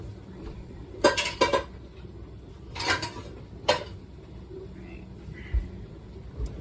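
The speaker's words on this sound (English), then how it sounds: "I'm going to wipe off the jars." Glass canning jars holding butter clink against each other and a hard surface as they are handled and wiped with a washcloth, with three distinct clusters of sharp knocks and softer handling noise in a quiet kitchen.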